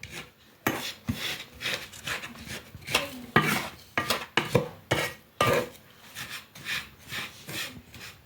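Gujiya stuffing made with curdled milk is mixed by hand in a dish, giving soft repeated rubbing, scraping and pressing sounds with occasional light clinks, close and moderately quiet.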